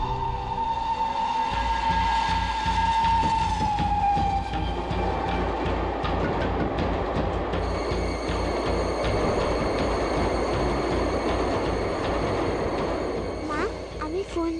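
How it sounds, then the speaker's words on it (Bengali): A train passes close by with a rumbling, rhythmic clatter of wheels on rails. A horn-like tone comes at the start, and the loud clatter lasts throughout. "পাশ থেকে একটা ট্রেন যাচ্ছে।"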